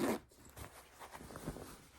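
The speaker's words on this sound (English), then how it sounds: "I keep getting the lining stuck in the zipper." A leather jacket zipper is pulled in short, uneven rasps, its lining catching so the zip stutters in brief scratchy bursts close by.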